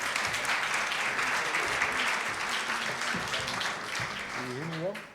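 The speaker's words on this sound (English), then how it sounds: "can I get a round of applause for Peter" An audience at a sales leadership awards evening in a London hotel ballroom applauds a speaker being invited to the stage, a sustained wash of clapping with voices and faint background music underneath.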